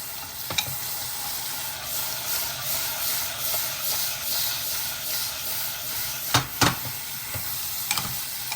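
Guvar (cluster beans) sautéing in a pan for a simple Gujarati shaak, a steady close sizzle and hiss with a few brief sharp stirring clanks near the end.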